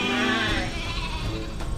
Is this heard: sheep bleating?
yes